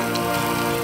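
Pouring rain falls steadily around a power line worker outdoors, a dense, even wash of drops across the whole stretch with no voices.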